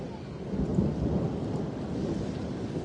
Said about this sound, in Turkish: Yağmur normal yağıyor.